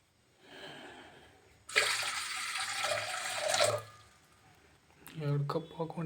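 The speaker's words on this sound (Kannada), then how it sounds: "ಇನ್ನೊಂದು ಕಪ್ ಹಾಕೊಂಬಿಡೋಣ." A second cup of water poured into a pan for Yippee noodles, a brief steady splashing pour of about two seconds, followed by a person speaking.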